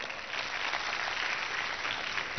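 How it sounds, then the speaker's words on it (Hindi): A hall audience at a Sanskrit gurukul gathering claps steadily in a dense, continuous burst of applause, with no talk over it. "तो अपने लिए ताली बजाओ आप लोग।"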